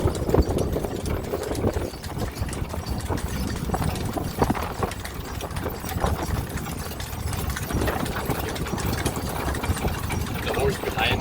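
Horse hooves clip-clop steadily on a tour through the Mekong Delta in Vietnam, with a lame horse following behind, the rhythmic clopping mixed with a running engine hum while people talk nearby.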